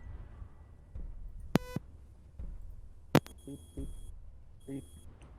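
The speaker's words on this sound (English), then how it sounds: "I hear beeps." Two short electronic beeps in a video game a second or so apart, sharp tonal bursts over a low murmur, followed by a few softer chirping tones.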